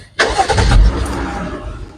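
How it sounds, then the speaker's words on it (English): A Jeep 3.6 V6 engine cranks and catches at about a quarter second, then settles into a loud, steady idle rumble close by. "let me start this engine up again"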